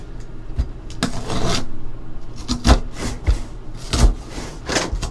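Trading card packs for football mini helmets being cut and torn open up close, with scraping, rubbing and crinkling foil sounds and a few sharp snips in an uneven rhythm, without talk.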